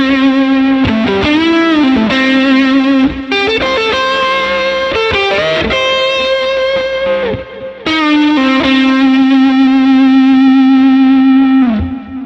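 Heavily effected, distorted electric guitar holds long notes shaken by a fast, wide wrist vibrato. The phrases are loud and close, separated by short pauses, and a final sustained note wavers before cutting off.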